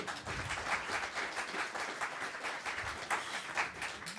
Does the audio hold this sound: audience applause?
yes